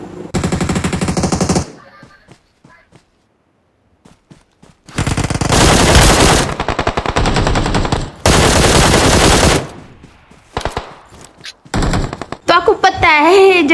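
Bursts of automatic gunfire from the PUBG mobile game played on an iPad Mini 6, heavy rapid volleys separated by quiet gaps, with a voice talking in places.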